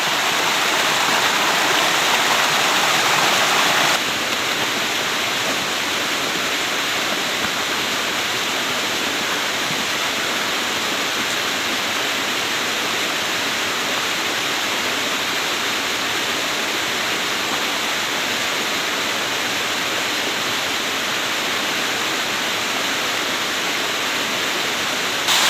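A small waterfall on the Kokoda Track rushes continuously, a dense and even roar of falling water that stays steady and loud throughout.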